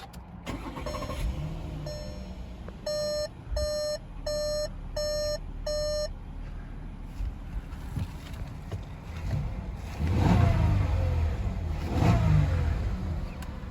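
A 2019 Volkswagen Atlas SEL Premium with a 3.6-liter V6 is push-button started: a run of evenly spaced chime beeps, then the engine cranks and catches with a loud burst before settling into a steady idle.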